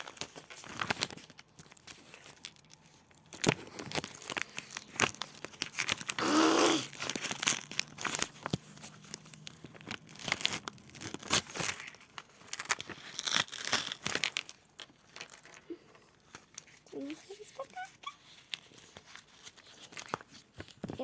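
Crinkly plastic wrapping crumples and tears as a packet is pulled open, with a louder ripping burst partway through and quieter rustling afterward.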